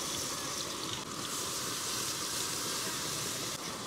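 A coconut, ginger, garlic and coriander paste sautés in hot oil for chicken alani rice, giving a soft, steady sizzle and hiss with no break.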